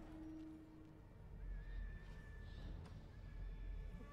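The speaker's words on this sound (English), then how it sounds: "You hear the gross, like, pig squeals in the back?" Pig squeals in the video game Darkest Dungeon, a quiet high drawn-out squealing cry in the background over a low rumbling game ambience.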